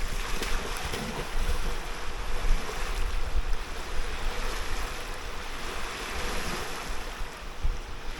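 Wind blowing by the water, a steady gusty rush buffeting the microphone over the wash of waves, close and loud throughout with no talking.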